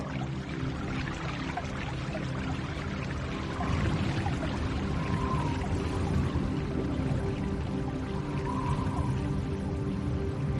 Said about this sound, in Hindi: समुद्र के किनारे बहती हुई ठंडी हवा,